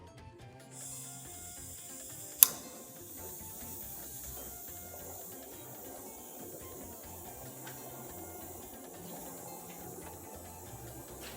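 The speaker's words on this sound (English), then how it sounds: "Let's get it on top of the butane burner, get our gas flowing." A butane burner hisses softly and steadily under a moka pot being brewed, with a single sharp click early on, otherwise an even quiet gas rush without talk.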